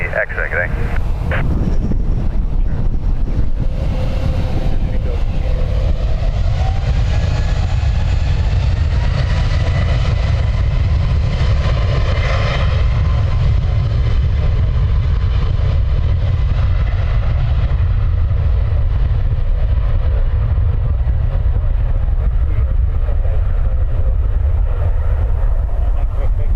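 A jet taking off from runway 10 right at Dublin Airport, a steady, loud, broadband roar that builds early and holds, with strong wind noise buffeting the microphone throughout.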